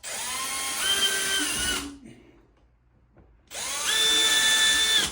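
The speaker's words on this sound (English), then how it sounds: "So I got a 3/16 drill bit in there for our 2 little anchors. Let's drill them" A power drill with a 3/16 bit bores two holes for wall anchors while a condensate pump is mounted on an interior wall, two loud whirring bursts of about two seconds each separated by a brief quiet gap.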